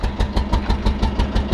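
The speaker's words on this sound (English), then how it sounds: "so far the exhaust sounds the same" A diesel engine idles on an alternative fuel, its exhaust putting out a steady, close, fairly loud rhythmic chug of about six even beats per second, with no voices over it.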